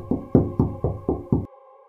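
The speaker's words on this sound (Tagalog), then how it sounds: "biglang may kumatok sa itaas." Six firm, evenly spaced knocks on wood ring out close by, followed by a brief quiet hum.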